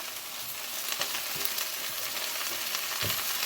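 Squash, zucchini and peas stirred in a cooking pot, sizzling steadily close by with soft scraping and clicking stirs, no voice present.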